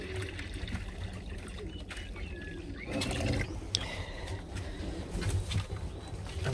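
Water pours slowly from a height into a pigeon drinker, giving a soft, continuous trickle and splash at low level, with faint bird sounds in the background.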